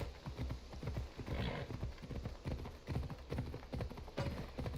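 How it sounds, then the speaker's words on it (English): A horse in the video game Assassin's Creed Odyssey, heard as repeated hoof clip-clops with a brief neigh or whinny in the middle, fairly close and moderately loud, with no one talking. "That's the weirdest sound you've ever made, horse. You almost sounded like a bear."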